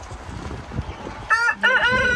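A chicken held in someone's arms gives a few soft clucks, then a louder, strained squawking call near the end, with light handling rustle beneath.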